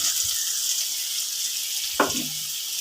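Salted potato pieces frying in a pan, a soft steady hiss broken by a single clank of the spoon stirring them.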